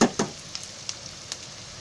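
Onion frying in hot oil sizzles softly in a pan, with a couple of sharp stirring clinks at the start and a few faint ticks after, close and quiet.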